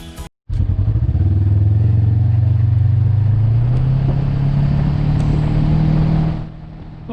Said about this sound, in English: Well, here we go, heading out of camp.